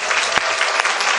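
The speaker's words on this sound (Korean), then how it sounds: "우리 고생한 친구들에게 다시 한번 큰 박수 부탁드립니다." Applause from a middle-school audience after a school musical on preventing school violence: dense, steady clapping throughout, with a brief low thump early and a faint hum underneath.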